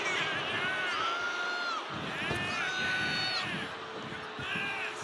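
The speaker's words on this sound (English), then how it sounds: "The crowd is fired up." A WWE 2K25 video game arena crowd cheers and shouts loudly and continuously, with whoops and rising screams throughout, steady and close.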